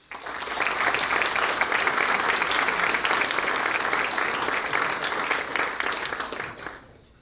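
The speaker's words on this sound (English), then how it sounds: "please give them a round of applause" An audience at a public forum on California redistricting breaks into sustained applause that holds steady and loud for several seconds, then fades out at the end.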